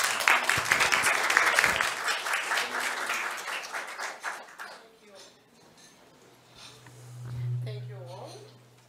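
An audience claps at the close of a lightning-talk session at an education conference, loud dense applause for about four seconds that fades into quieter room noise, with a low hum and a few faint voices afterward.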